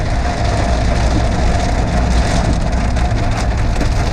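Rain drums steadily on a moving car while driving on a road, a dense, loud hiss of drops mixed with road rumble, continuous throughout with no talking.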